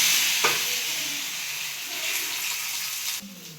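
Dhapate flatbread frying in oil on a griddle, giving a steady close hiss and sizzle throughout, with a brief sharp clink near the start and a shift in tone near the end.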